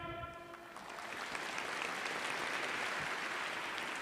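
Audience clapping at a university entrance ceremony, a dense wash of applause that swells after the first half second and stays loud and steady throughout, with a brief sustained tone at the very start.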